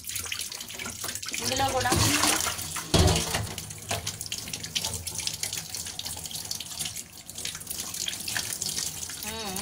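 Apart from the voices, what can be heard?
tap water washing atta dough for chapati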